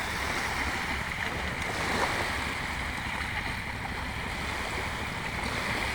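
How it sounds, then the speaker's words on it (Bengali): Continuous churning of water as waves roll in on the Meghna River at Chandpur, broad and steady, with gusting wind buffeting the microphone throughout. "ঢেউ একটা পর একটা আসতেছে"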